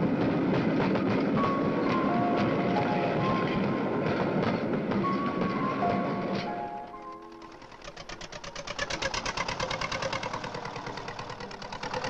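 A train approaches a railway level crossing: a loud, steady rumbling drone with faint tonal notes, which gives way after a brief dip to a rhythmic clattering of wheels over the rails.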